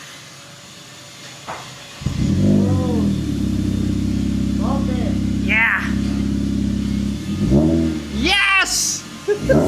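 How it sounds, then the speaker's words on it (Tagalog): Honda Civic FD engine with a full exhaust and muffler revs loudly, a steady droning roar holding for several seconds, then rising and falling again near the end, with people cheering and talking over it. "Tingnan natin kung okay ba yung tunog niya nung naka full exhaust na siya."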